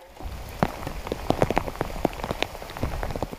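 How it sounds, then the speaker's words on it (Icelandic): Steady rain falls with a southeasterly wind, individual drops pattering sharply and close on a hard surface over a soft continuous wash, with no voices. "Í dag erum við með kærkomna rigningu"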